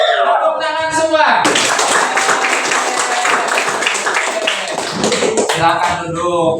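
Classroom of eighth-grade students at a junior high school clapping together in a burst of applause, loud and dense for several seconds, with voices talking briefly before and after.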